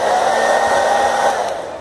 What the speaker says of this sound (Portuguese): para tirar então esses adesivos que não sai de jeito nenhum, você vai pegar um secador de cabelo